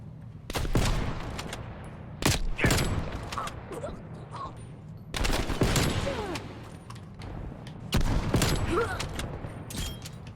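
Rapid bursts of video-game gunfire from a semi-automatic weapon fired on scoping in, loud clustered shot volleys with brief gaps between them, alone with no talk.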